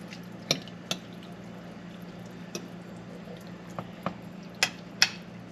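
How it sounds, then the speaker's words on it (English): Macaroni and cheese sauce with milk is stirred in a pot, heard as wet squishing and a few sharp spoon knocks against the pot spaced irregularly over a low steady hum, close and fairly quiet, with no talking. "now that we got the milk in there, we can stir it up a little bit better"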